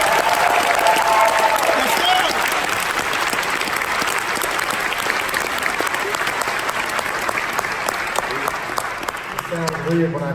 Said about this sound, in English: It sounds weird when I clap with the mics, and y'all did that for me